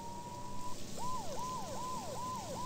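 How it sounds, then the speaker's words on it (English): Police sirens wail in Max Payne 2, a steady tone followed by four rising-and-falling whoops, moderately distant, heard alone without talk. "Mona must have heard the sirens too"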